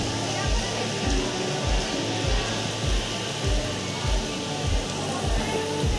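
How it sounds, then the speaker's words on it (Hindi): Heavy rain pours steadily in a dense hiss, with a rhythmic low thumping repeating about every half second beneath it. "देख सकते हैं ये बारिश कितनी हो रही है"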